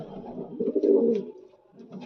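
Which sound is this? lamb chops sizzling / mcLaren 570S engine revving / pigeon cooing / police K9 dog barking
pigeon cooing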